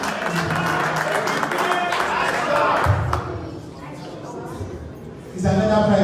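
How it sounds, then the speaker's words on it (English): Guests at a political fundraiser in Chicago give a round of applause, a broad wash of clapping heard under continued speech, fading briefly before swelling again near the end. "Please, a round of applause"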